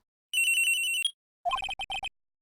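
A cell phone rings in the Ace Attorney video game, first as a steady high electronic trill lasting under a second, then a second burst of short rhythmic ringtone beeps, clean and alone.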